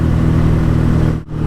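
Loud, steady engine roar from a BSA A10 Super Rocket motorcycle riding close to the listener, the note holding constant, then dipping briefly before it resumes.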